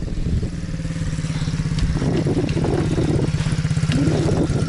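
An MRF 80cc pit bike ridden by a young child putters nearby with a rapid, uneven engine clatter that rises slightly as it moves.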